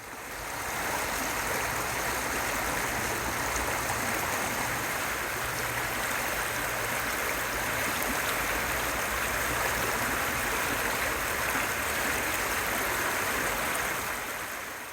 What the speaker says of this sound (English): That's the sound of a waterfall on Glade Creek, not far from Vinton.